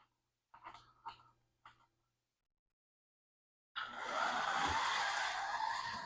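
A Fly Porsche slot car starts with a few faint ticks, then gives a steady, close electric motor whine and hiss as it runs around the track, with no talk.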